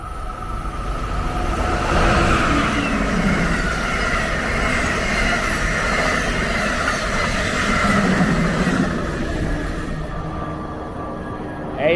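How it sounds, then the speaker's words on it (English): A train rolls past at close range, a steady, loud rumble of wheels and rail noise with faint squeals, holding for about twelve seconds and easing slightly near the end. "Here comes a train."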